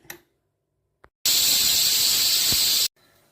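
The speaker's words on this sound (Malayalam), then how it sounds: "ഒരു വിസിലടിക്കുന്നത് വരെ വേവിക്കുക" Cooking green mango with water and salt, a pressure cooker lets out one loud, shrill, steady whistle lasting over a second and a half, close by, then cuts off abruptly into quiet.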